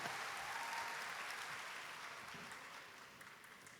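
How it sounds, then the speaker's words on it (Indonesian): Church congregation at a revival crusade seminar applauds to welcome Reverend Kwon Ildoo, a faint, continuous hiss of many hands clapping that slowly fades toward the end. "Tepuk tangannya yang sangat meriah"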